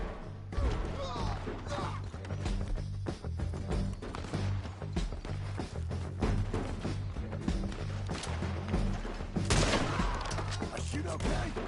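Gunshots crack repeatedly in Red Dead Redemption II, a dense, loud barrage of overlapping shots and impacts that continues throughout, with a voice speaking briefly over it.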